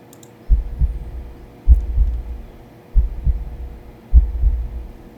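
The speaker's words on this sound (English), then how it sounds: "His heartbeat's kind of freaking me out." Cat's heartbeat in a horror video game: four slow, evenly spaced, loud low double thumps, each followed by a brief throbbing decay, with no talk.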